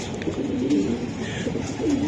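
Racer pigeons coo softly in low, throaty murmurs in a loft, close by and steady across a couple of seconds, with faint background noise.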